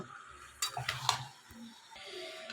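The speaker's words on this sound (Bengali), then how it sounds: "এবার এই চিকেনটা এই মশলা আর আলুটার সাথে ভালো মতন মিশিয়ে নেব।" Chicken pieces, potatoes and spices stirred together in a pan for a home-style chicken curry: a few close spoon scrapes and clinks against the pan over a soft sizzle, no talking.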